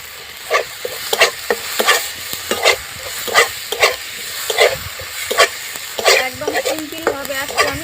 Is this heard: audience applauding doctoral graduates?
no